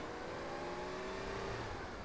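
A fast car drives in a video game, its engine droning steadily with a rising whine, close and moderately loud, with no one speaking.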